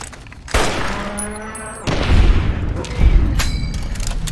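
Gunfire booms from a weapon in the video game Fallout: New Vegas, several loud, close reports that fire in quick succession with a rumbling tail.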